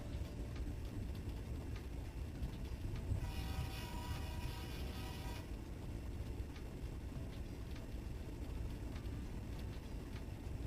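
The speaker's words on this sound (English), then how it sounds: "Freight train meets something that sounds like a freight train." A freight train rumbles past at steady volume across the whole stretch, with a brighter, harsher burst of grinding, horn-like tone in the middle before settling back to a continuous rolling roar. No one speaks.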